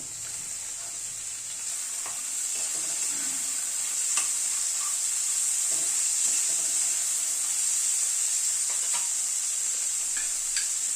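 Green peas are stir-fried with orange fried rice in a pan, giving a continuous bright hiss and sizzle with occasional soft spatula scrapes and taps, close and steady, with no voices.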